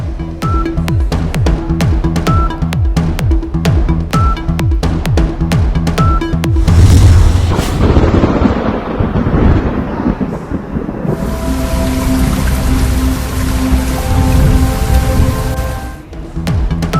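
Thunder in Karachi rolls in with a heavy, booming rumble after a short rhythmic musical passage, giving way to a steady hiss of rain that continues to the end, loud and with no speech.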